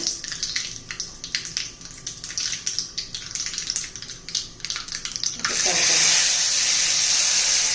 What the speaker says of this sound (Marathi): हे पहा तेल गरम केलंय त्याच्यात मोहरी घालू